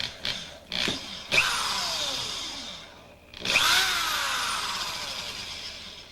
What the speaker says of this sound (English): we're going to go ahead and start with a 1/8 inch bit and go in about 1 inch